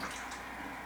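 Water runs into a Vitamix blender jar filled for washing, a faint steady splashing hiss that lasts through the short moment without pause.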